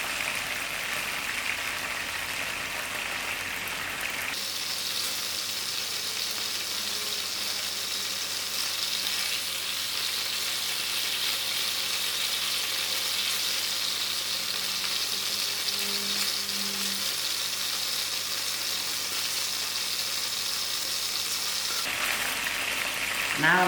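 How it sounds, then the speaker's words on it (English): Chicken livers sizzle and crackle steadily in a hot frying pan, a continuous loud frying hiss that grows stronger partway through, with no talking. "A quick fry out. After a very quick fry, I'm going to actually remove this out from the frying pan."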